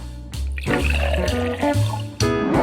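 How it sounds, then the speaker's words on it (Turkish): Water pours over ice in a cocktail shaker, a loud splashing rush that runs steadily for a couple of seconds with brief breaks. "Üstüne biraz su dökeceğim."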